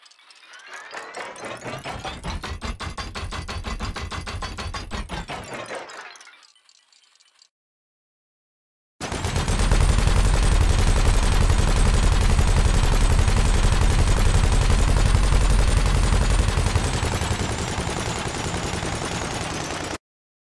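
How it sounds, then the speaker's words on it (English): A spaceship gun barrel in the video game Elite: Dangerous spinning up and firing: a rapid ratcheting mechanical burst that winds down to silence, then a loud, dense sustained roar of continuous fire. "I've made a little video of the barrel sound, that rotating front part, and the firing."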